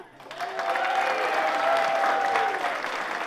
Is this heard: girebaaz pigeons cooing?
no